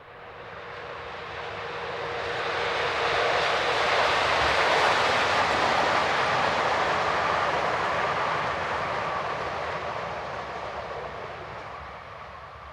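A DB Class 111 electric locomotive hauls a regional passenger train from Hartmannshof to Bamberg, rising from a distant hum to a loud, broad rushing roar as the train passes close by, then fading away.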